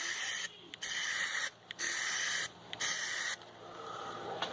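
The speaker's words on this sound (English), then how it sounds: "let's go ahead and spray it" Plasti Dip aerosol spray coating the emblem of a 2017 Jeep Compass, heard as four steady hissing bursts of about a second each, separated by brief pauses, close and fairly loud with no talking.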